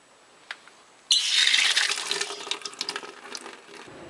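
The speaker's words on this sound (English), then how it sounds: "I'll use a bucket to collect any additional water that drains out." Water gushes suddenly from drained well pump pipes into a bucket, a loud splashing rush that starts abruptly and then tapers into uneven trickles and spatters.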